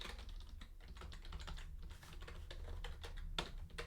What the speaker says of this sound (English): My cat's walking on the keyboard.